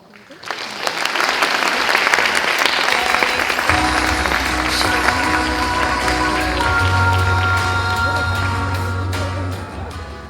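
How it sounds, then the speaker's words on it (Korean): Warm audience applause from a lecture-hall crowd welcoming a haegeum (Korean two-string fiddle) performer, a dense sustained clapping that fills the room for about ten seconds, with a low steady hum entering partway through. "나오실 때 뜨거운 박수로 환영해 주시고"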